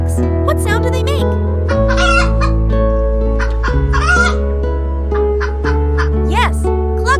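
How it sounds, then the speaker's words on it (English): A farm chicken clucks and her little chicks peep in quick, busy bursts, layered over continuous cheerful backing music. "Yes, cluck cluck and peep peep, says Clucky and her chicks."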